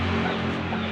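A mother hen clucks beside a nest holding over twenty eggs, a short, close, steady run of soft clucks with no voices.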